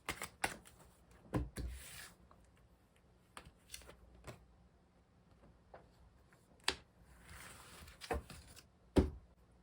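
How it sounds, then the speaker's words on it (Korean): Tarot angel cards shuffled by hand, a quiet run of soft, irregular riffling taps and slides with a few sharper flicks, close and alone with no voices. "우리 유리님을 위해서 천사 카드 뽑아보도록 할게요"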